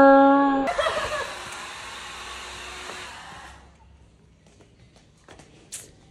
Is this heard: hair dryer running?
yes